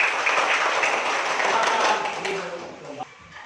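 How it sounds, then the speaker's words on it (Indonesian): A classroom audience gives applause during a school session, a steady wash of clapping for about two seconds that tapers off toward the end. "Kita berikan tepuk tangan yang sangat"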